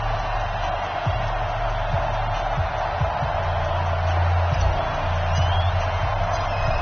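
Steady stadium crowd roar in an EA Sports NFL game before a Pittsburgh Steelers versus Baltimore Ravens matchup, a constant wash of distant cheering with faint low thumps underneath.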